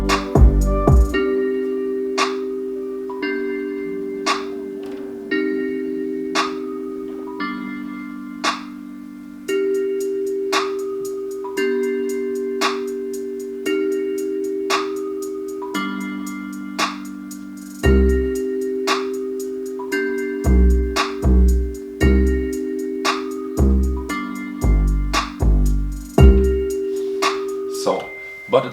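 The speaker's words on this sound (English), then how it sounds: "the kick we let play from there, and for sure our clap and our hi-hats will sound then like this" FL Studio hip-hop beat built from a steady kick, clap and hi-hats under a repeating synth line, looping evenly throughout with no talking, the kick pattern growing busier and punchier in the later bars.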